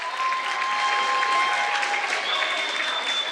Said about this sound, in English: Alex Crook will leave to a round of applause of his own.